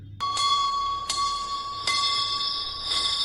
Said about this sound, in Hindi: वही घंटी की आवाज़ रात को 2 बजे सुनाई देने लगी